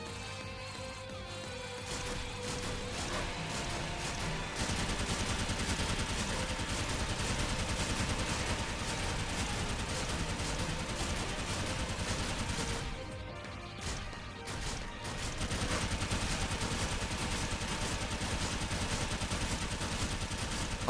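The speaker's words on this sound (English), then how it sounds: "How can I activate the Gatling gun?" Gatling gun in the shooter game Sword Art Online: Fatal Bullet, firing as a continuous rapid stream of shots that runs nearly unbroken for about twenty seconds, with a brief gap partway through, over busy game sounds.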